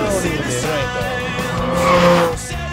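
A car racing at speed around a track more than 4 km long, engine roaring loudly and close, with tyres squealing through the corners.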